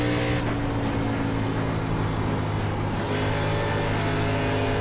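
An ARCA Menards Series stock car in iRacing at Texas Motor Speedway roars under throttle, a loud continuous engine drone with steady harmonic tones and a small shift in pitch as power comes on.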